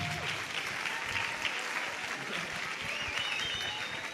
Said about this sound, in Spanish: Le damos un aplauso a Damián, ¿les parece?